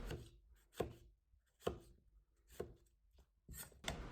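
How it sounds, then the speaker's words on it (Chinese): A knife cuts zucchini on the diagonal into fairly thick slices, giving five or six distinct, quiet, close thuds against a board at an uneven, unhurried pace. "斜刀片成薄薄的厚片，切西葫芦片稍微厚一点"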